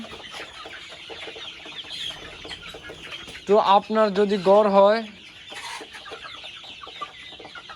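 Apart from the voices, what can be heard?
Egyptian Fayoumi chickens clucking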